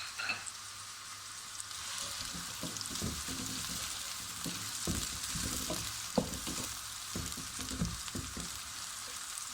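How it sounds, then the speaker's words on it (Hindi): Sliced onions fry in hot oil for balti gosht, a steady close sizzle broken by repeated scraping and stirring strokes in the pan, with no one speaking. "जब ये तेल गर्म हो जाएगा तो इसमें प्याज शामिल कर देंगे"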